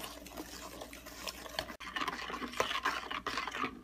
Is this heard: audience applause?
no